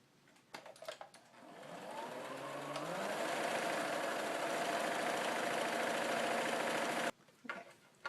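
A sewing machine hums up to speed and runs steadily for several seconds, hemming the folded edge of a big pocket apron, then stops abruptly, with brief handling clicks before and after.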